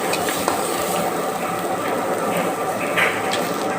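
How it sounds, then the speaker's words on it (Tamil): Onion, tomato, ginger and a little tamarind sautéing in a pan for chutney, a steady close sizzle with faint stirring scrapes, no voices. "அதெல்லாம் வதக்கிக்கணும்."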